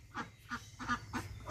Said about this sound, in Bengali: হাঁসগুলা দাঁড়াইছে